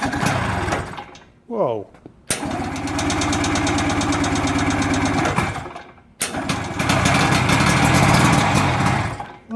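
A small engine on a can of starting fluid sputters, catches and then runs with a steady rattling putter, cuts out, and fires up again. A voice exclaims briefly during one of the gaps.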